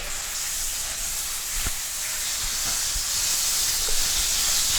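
Steady hissing sizzle of turkey breast frying in hot oil in a pan, close and continuous, with a few faint clicks and knocks.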